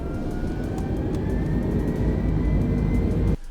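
Airbus A320 jet engines in Microsoft Flight Simulator spool up in a steady, loud roar with a rising whine layered on top, holding constant until the sound cuts off abruptly near the end.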